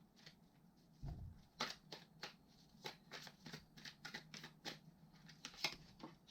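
Tarot cards are shuffled and laid out on a table in a quiet room, a string of soft riffling flicks and taps close by, with a single dull thump near the start.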